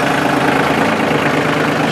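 A Massey Ferguson 1700 Series compact tractor engine running right after starting, with its PTO off and range in neutral; a steady, loud, close diesel idle with a dense rumble that holds evenly throughout.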